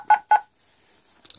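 An Ameritech bag phone keypad sounds two short, sharp DTMF beeps in quick succession, close and clear, followed by a faint hiss and a small clatter.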